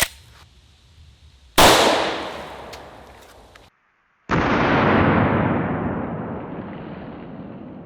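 A loud gunshot from an Underwood Extreme Penetrator round fired into a sand target, a sharp blast with a long decaying tail, then a brief silence and a second loud sustained burst of noise that slowly fades.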